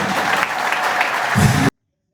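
A church congregation claps together for a prayer and healing service, a steady dense patter of many hands at moderate volume that carries on for under two seconds and then cuts off abruptly into silence.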